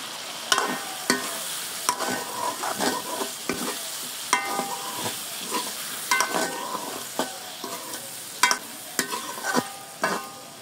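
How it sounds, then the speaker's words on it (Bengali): Chili powder and spices fry for a thin sarpunti fish curry with tomato. A steady close sizzle carries regular spatula scrapes and knocks against the pan, repeating every second or so. "বন্ধুরা মরিচের গুঁড়ো দিয়ে আরো কিছুক্ষণ কষিয়ে নিয়েছি"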